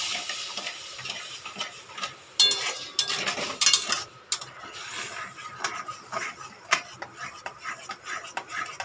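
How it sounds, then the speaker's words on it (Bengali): Spoon stirring milk into a sugar and mango mixture in a pan, a steady run of close scraping and clinking taps against the metal with sharper knocks scattered throughout, no talking. "দুধটা দিয়ে কিন্তু কন্টিনিউ নাড়তে হবে"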